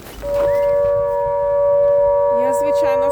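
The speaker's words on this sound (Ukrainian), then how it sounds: "але повітряна тривога" A loud air raid siren in Ukraine holds a steady wailing tone throughout. Near the end, a howling, wavering voice joins in beneath it.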